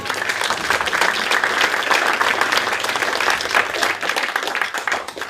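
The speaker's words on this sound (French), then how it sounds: "On peut l'applaudir." Applause from a round-table audience at an association's 40th anniversary event fills the room as a sustained, even roar of many clapping hands, loud and continuous, with a low steady hum underneath.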